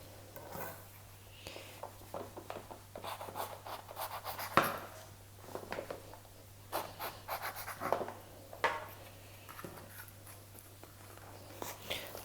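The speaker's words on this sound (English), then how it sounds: "We need to cut round and carve the other side." A knife scrapes and carves through a decorated treasure chest cake in soft, close, irregular strokes and rubs over a faint steady hum, with quiet breathing between cuts.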